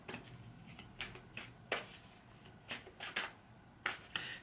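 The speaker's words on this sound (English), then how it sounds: "I've just started to shuffle the cards slower" A deck of cards is shuffled slowly by hand, giving soft, close riffles and flicks in uneven bursts, quiet and without speech.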